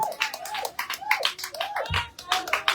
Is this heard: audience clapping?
yes